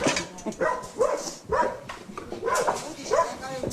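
A dog barks several times in a steady rhythm, loud and close, with people talking at the same moments.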